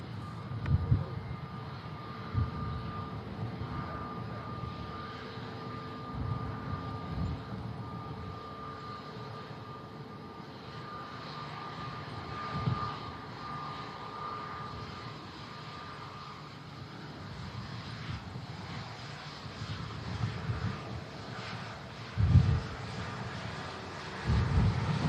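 An Aer Lingus airliner departing Manchester Airport rumbles at a distance, a low steady engine drone holding for about twenty-five seconds with a few faint bumps and no talking.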